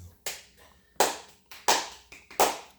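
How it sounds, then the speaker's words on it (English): Four sharp, evenly spaced hand claps sound close and fairly quiet at a small home gathering, with silence between each clap. "Round of applause."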